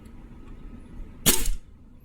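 A single sharp crack from a gas-powered Army R32-1 Kimber Sandstorm airsoft pistol firing 0.2 gram BBs, one loud snappy shot standing out against quiet room hiss.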